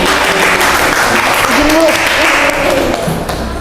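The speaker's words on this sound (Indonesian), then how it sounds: "silahkan kita berikan tepuk tangan untuk beliau" An audience applauds a guest speaker at a school event with steady, dense clapping, while voices and murmurs sound underneath.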